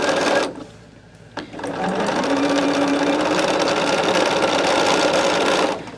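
A sewing machine stitches quilt pieces in a steady, fast, close mechanical whir that runs for several seconds, after a brief start-stop, with no talking.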